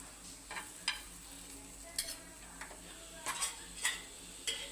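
Egg paratha frying in a pan, beaten egg layered on, giving a low steady sizzle broken by several light scraping and tapping clicks of a utensil against the pan, close and unaccompanied by talk.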